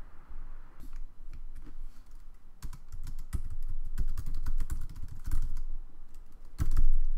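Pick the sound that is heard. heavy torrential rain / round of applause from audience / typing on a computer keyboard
typing on a computer keyboard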